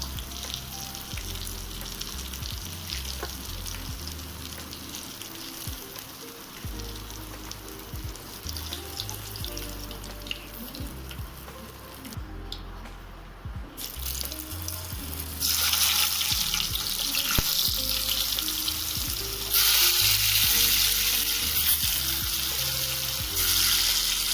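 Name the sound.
gram flour (besan) gatte frying in oil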